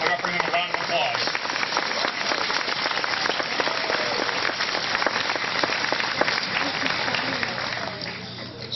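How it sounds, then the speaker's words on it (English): An indoor audience applauds at a museum presentation, with dense, steady clapping that carries on throughout and fades a little at the end. "please help me thank our corporate sponsors, Tompkins Bank of Castile, and City Newspaper for their generous donations and support for this event by offering them a round of applause"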